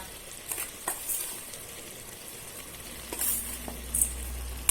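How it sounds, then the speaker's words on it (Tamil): Ground masala paste fries in a pan for a kara kuzhambu and is stirred with a utensil. A steady close sizzle carries a few scraping and clinking strokes, and no one speaks. "போட்டு நல்லா ஒரு வதக்கு கலருங்க."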